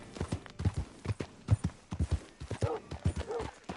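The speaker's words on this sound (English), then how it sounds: "Hitch your horse up here." Horse hooves clip-clop in a steady walking rhythm in the Western video game Red Dead Redemption 2, close and fairly loud, with brief speech mixed in and a faint whinny near the end.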